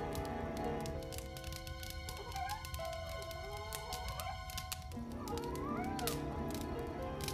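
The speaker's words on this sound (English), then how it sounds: "After trying to wake Vern up, Jethro then moved over to Rita, meowing frantically" A cat meows frantically, with several rising and falling meows over a busy background of sustained tones and clicks, moderately loud throughout.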